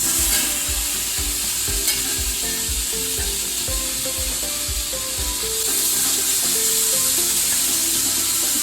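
Bacon-wrapped tamales fry in a pan with a loud, continuous, dense sizzle close by, steady throughout and with no talking.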